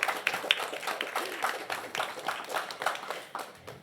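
Audience applause for an all-female panel at an inclusive cities infrastructure event, a moderately soft, steady patter of many hands clapping through the whole stretch, with no talking over it.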